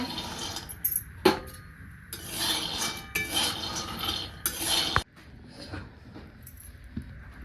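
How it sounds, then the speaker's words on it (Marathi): Peanuts dry roasting in a pan rattle and scrape as they are stirred, giving gritty rasping and clinking bursts, close by with no voices. "तर आता हे शेंगा हे आपल्याला छान अशा भाजून घ्यायच्या"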